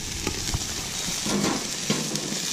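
Chicken wings sizzling on a Camp Chef griddle over low heat, a steady close frying hiss with small pops and crackles throughout, no talk.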